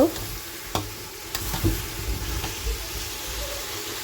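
Spinach cooking in a pan with ginger, rice flour and lentil dumplings, a steady sizzle throughout with a few sharp stirring knocks and scrapes of the spatula.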